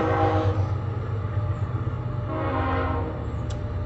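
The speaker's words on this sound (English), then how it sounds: "Here comes the train." A train passes close by with a loud sustained rumble, its horn sounding in long steady tones at the start and fading as the rolling cars continue under it.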